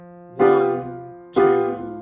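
Piano played with both hands as the left hand holds a sustained low F. Two right-hand chords strike in a slow rhythm over it, each ringing and fading, close and clear.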